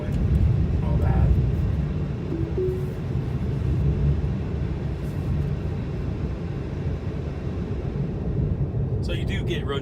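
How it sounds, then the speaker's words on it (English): Continuous low road rumble and tyre noise inside a moving Tesla Model 3 on cruise control, a steady drone filling the cabin, with brief faint sounds near the end. "So you do get road noise for sure."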